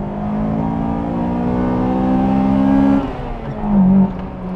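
A Honda Integra Type-R engine revs hard with a steady, rising drone, drops off around three seconds, then surges briefly again before settling; loud and close.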